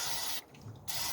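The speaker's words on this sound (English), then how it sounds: "spray it down, get it all nice and clean" Two bursts of cleaner spray hissing from a nozzle onto an air filter, close up, separated by a short pause.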